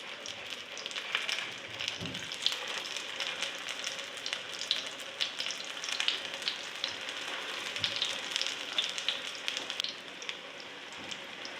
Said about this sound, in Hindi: और 4 कबाब इजीली इसमें पड़ चुके हैं फ्राई होने के लिए